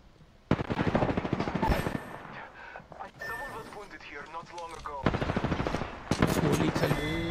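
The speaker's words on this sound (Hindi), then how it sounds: "गोली कहीं तो चल रही है" Rapid bursts of automatic gunfire from the video game Apex Legends, loud and repeated, with people talking in Hindi over the shooting.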